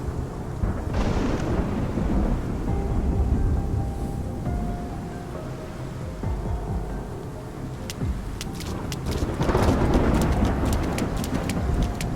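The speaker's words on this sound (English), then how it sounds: "It's just the rain." Steady rain hiss with low rumbling, like a storm, running throughout, from a video game (Love and Deepspace); sharp clicking taps appear near the end.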